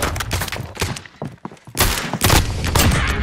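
Gunfire rakes the player in a video game: loud, dense volleys of shots and impacts, broken by a brief lull before a heavier barrage resumes.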